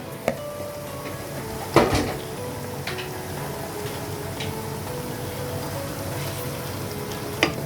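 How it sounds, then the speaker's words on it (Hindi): Boneless chicken pieces drop into a pot of frying garlic and ginger for chicken handi, giving a soft, steady sizzle close by, with a few sharp clinks of utensils against the pot. "अब मैं इसमें डाल दूँगी चिकन। ये मैंने इसमें चिकन डाल दिया।"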